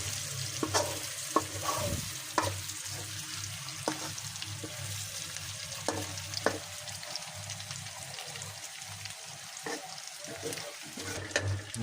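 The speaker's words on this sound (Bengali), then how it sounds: "যে বেগুন ভাজা প্রায় শেষ পর্যায়ে" Eggplant slices fry in a pan, giving a quiet continuous sizzle. Scattered knocks and scrapes from stirring run through the sizzle.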